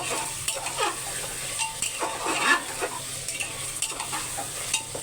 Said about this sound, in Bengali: এদিকেও আমার মাংসটা ভালোভাবে কষানো হচ্ছে